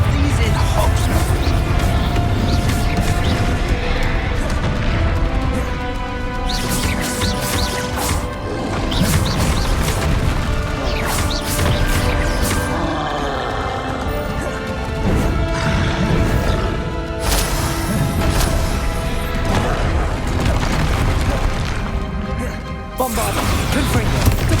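Confringo and Bombarda spell blasts in Hogwarts Legacy during combat, with repeated crashing impacts and bursts landing in quick succession, loud and dense over a busy battle din.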